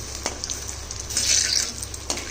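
Food frying in oil in a wok, with oil being spooned over the top, gives a steady close sizzle, a few brief utensil scrapes and a louder burst of crackling midway.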